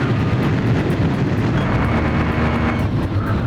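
Continuous roar of airplane engines in the Ace Combat 5 combat flight game, a dense, loud, steady rumble with no speech, consistent with a transport plane and escort fighters in flight.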